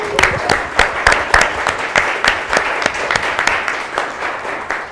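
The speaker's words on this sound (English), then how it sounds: "You can clap for that." Applause from people at a school board of education meeting honoring an award-winning elementary school: a steady patter of many hands with sharper individual claps standing out, fairly close and loud, with no talk over it.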